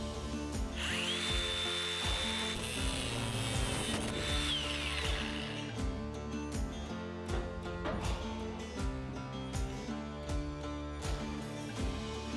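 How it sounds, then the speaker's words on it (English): Bolt being cut on a 1941 Chevy, a steady whining cut lasting several seconds near the start, followed by loud mechanical rattling and clatter from the tool and body panels, close up with no talking. "we'll cut the bolt."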